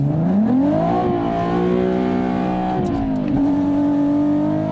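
A Nissan Z with a VG30ET engine revving hard: the pitch climbs quickly, holds high, dips, then settles into a strong steady drone. Loud and close, with no talk.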